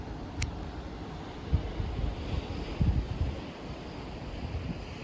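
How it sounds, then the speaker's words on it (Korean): Ocean waves at the Ganjeolgot coast in Ulsan, a low rumbling wash of surf mixed with heavy wind buffeting the microphone, continuous and fairly loud with no voices. "파도 소리도"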